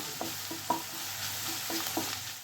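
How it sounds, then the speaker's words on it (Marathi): Ginger, garlic and coriander paste frying on a low flame, a soft steady sizzle with several spoon-stirring scrapes, close and fairly quiet. "कोथिंबीर अदरक लसूणची जी आपण पेस्ट करून घेतलेली आहे ती छान असं फ्राय करून घ्यायचं लो फ्लेमवरती"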